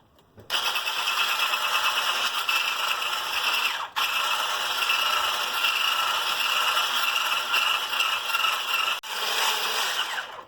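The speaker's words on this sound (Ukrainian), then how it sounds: "І ось до такої консистенції ми збили наше масло з цукром та сіллю." An electric mixer beats butter with sugar and salt, giving a continuous loud whirring and rattling drone for about ten seconds, briefly interrupted twice.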